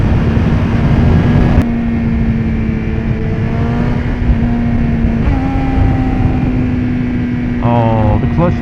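A 2015 BMW S1000RR motorcycle engine drones loud and close through a clutchless downshift, its steady tone stepping in pitch a few times before a sharp rev blip near the end, with heavy wind buffeting throughout.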